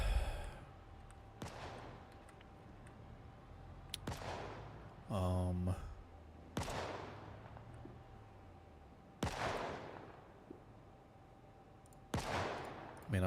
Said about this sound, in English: There's the bombing runs.